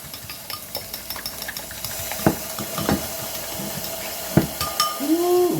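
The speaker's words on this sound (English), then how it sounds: "Ooh, listen to that sausage sizzle." Sausage frying in a pan gives a steady sizzle with faint hiss, broken by a few louder clinks of utensils and pans, with a brief rising squeak near the end.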